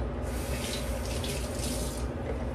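Water pours steadily into a pot of simmering linagang baka, a Filipino beef stew already seasoned with bouillon cubes, making a continuous, close splashing gush with no voices.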